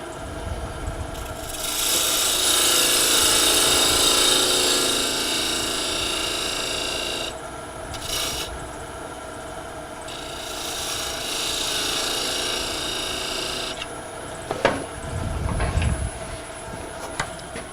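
A wood lathe undercuts the roof of a small turned miniature bird house, giving a steady abrasive rasp of a tool on spinning wood that stops and starts in two long passes, close and fairly loud, with a few knocks near the end.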